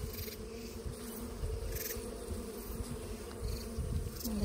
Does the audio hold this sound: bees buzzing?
yes